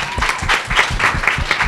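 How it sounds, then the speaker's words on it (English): An audience at a yoga book launch claps briskly, with a crowd of hands producing rapid, uneven applause that stays steady and fairly close throughout. "So a huge round of applause for Manish."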